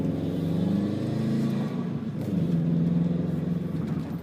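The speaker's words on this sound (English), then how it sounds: "I want to bust this turn really fast, rev 2nd gear" A 2011 Subaru WRX with a manual gearbox revving hard in second gear through a turn, its engine note droning loud and close, rising and falling slightly over a few seconds.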